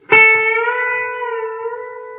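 A single plucked note on a B-bender guitar rings out clearly and sustains, its pitch bending slightly as the bender moves, slowly decaying, played alone.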